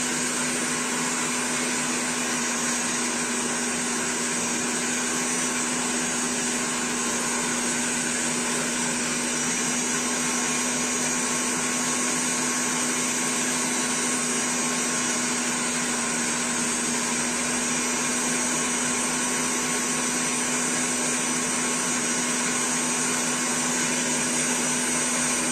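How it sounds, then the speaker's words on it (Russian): Electric mixer whipping marshmallow mass for paste flowers, a steady, unbroken motor whine with a strong constant hum that runs alone for the whole stretch with no talking. "Если у вас миксер без подогрева, вы обязательно должны взбивать вашу массу"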